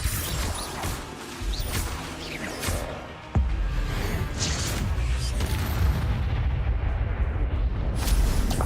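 A Bombarda spell explosion in Hogwarts Legacy lands as a sudden heavy boom partway through, then gives way to a loud, sustained rumbling roar amid a continuous clatter of game noise.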